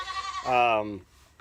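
A Nigerian Dwarf goat in a breeding pen gives one loud, close, wavering bleat about half a second long, followed by quiet.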